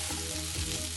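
Sabudana khichdi sizzles and fries steadily in a pan while being lightly stirred, a close, continuous crackle with soft scraping, no voices.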